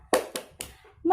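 Three sharp hand claps from children in a classroom ring out in a quick, even rhythm, then a voice starts to speak.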